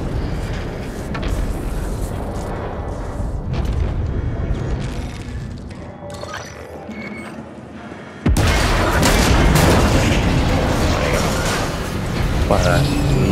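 Explosions from the video game The Ascent: a rumbling, booming background with a sudden loud blast that jumps in volume and continues as a dense roar; a voice talks over the first part.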